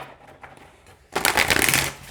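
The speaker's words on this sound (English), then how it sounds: "they shuffle like a dream like this too" Oracle cards of average oracle size and fairly thin stock being shuffled, a quiet lead-in followed by a bright, rapid riffling burst of close papery flutters lasting about a second.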